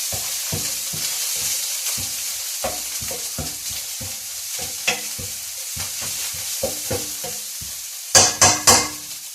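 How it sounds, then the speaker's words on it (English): Ground coriander being stirred into ginger, garlic and onions frying in a pan for a paneer and spinach curry, a soft, steady sizzle broken by frequent rhythmic spatula taps and scrapes, with a few louder clanks near the end. "And mix it in with the ginger, garlic and the onions"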